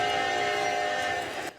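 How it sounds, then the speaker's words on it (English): A train rolls along a busy rail corridor in East Palestine, Ohio, sounding a loud, steady horn tone that holds for over a second before cutting off abruptly, with rail noise beneath and no voices. "Trains continued along this busy rail corridor in East Palestine, Ohio"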